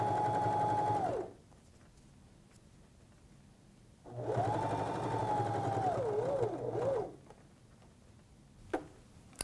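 A sewing machine stitches fabric cut on the bias in two close, even bursts of rapid whirring with a short pause between them, followed by a few faint clicks.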